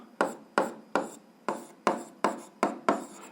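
Pen strokes on paper while writing out an algebra exercise by hand, eight crisp scratchy strokes at an even rhythm, close and alone.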